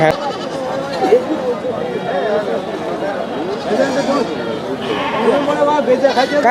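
Many sheep bleat over and over at a livestock market, close and loud, their wavering cries overlapping amid a busy crowd with people talking in the background.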